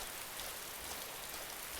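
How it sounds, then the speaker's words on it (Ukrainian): Steady, even rain pouring in the DayZ survival game, a soft continuous hiss with no other sounds over a short stretch. "Дощ нас зустрів сьогодні."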